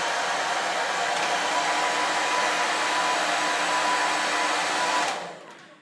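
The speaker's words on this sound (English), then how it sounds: "So hair dryer on." A hair dryer runs on a Jackery Explorer 2000 Plus portable power station, a loud steady airy whoosh with a faint whine, continuous for about five seconds before switching off and winding down, with no talking.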